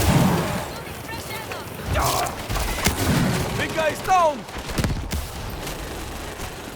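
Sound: gunfire from World War Z Aftermath video game

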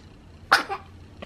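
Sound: sneeze

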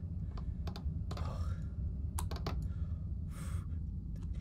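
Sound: computer keyboard keys pressed, Shift key

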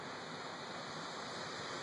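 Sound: waves on Lake Michigan

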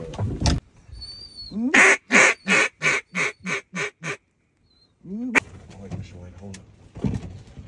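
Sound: ducks quacking during duck hunt in snow

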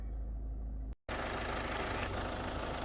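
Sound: car diesel engine idling

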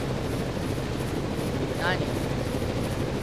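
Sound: helicopter arriving in the video game Zettai Zetsumei Toshi 2

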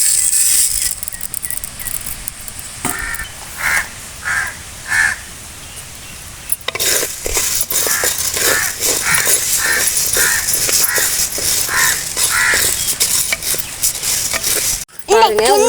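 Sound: dry-roasting finger millet and urad dal, stirring

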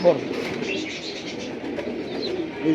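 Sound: pigeons cooing

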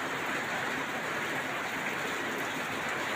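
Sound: rain falling

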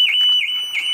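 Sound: car alarm going off

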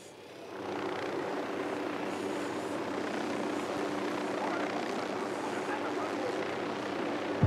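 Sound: drone flying in video game Ghost Recon Wildlands

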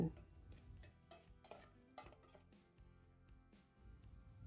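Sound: stirring ingredients in a pot

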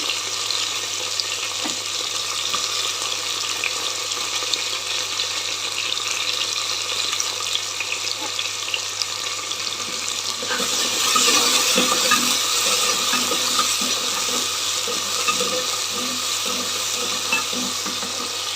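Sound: okra (bendakaya) frying in a pan

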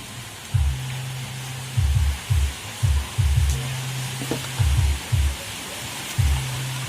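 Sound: rain falling

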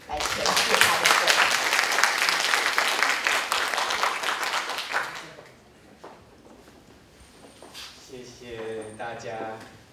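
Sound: audience applause welcoming a speaker

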